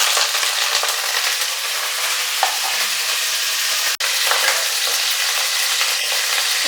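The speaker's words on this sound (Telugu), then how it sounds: "సో ఆయిల్ వేడెక్కింది, మిర్చి యాడ్ చేసుకుందాం. మిర్చితో పాటు కరివేపాకు." Green chillies and curry leaves fry in hot oil for a bommidayalu fish curry, giving a steady, dense sizzle that holds evenly throughout, broken once by a single sharp click near the middle.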